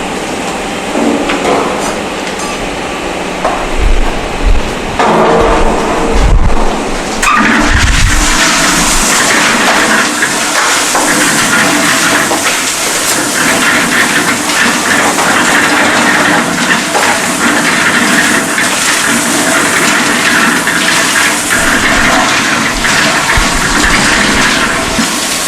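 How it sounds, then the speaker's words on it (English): A concrete mixer drum turns with coarse aggregate tumbling inside, a loud continuous grinding, rattling wash of stones that stays steady for the whole stretch, with a few heavier knocks early on. "So we are going to add the coarse aggregate to the concrete mixer."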